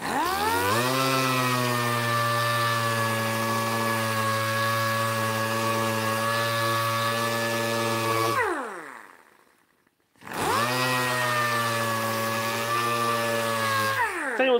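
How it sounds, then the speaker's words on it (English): An air-powered sander runs on a wooden Death Star stand in a wood shop, a loud, steady, close whine with rising and falling tone that cuts out for about two seconds, then starts up again. "If anyone's thinking of getting a sander like this, you do need a lot of air"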